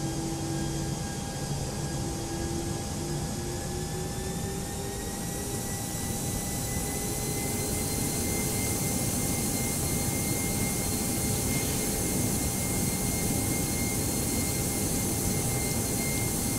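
Airbus A319 jet engines spooling up in the X-Plane flight simulator, a steady loud whine and roar with tones slowly rising in pitch, no talking.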